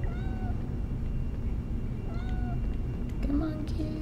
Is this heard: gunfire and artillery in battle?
no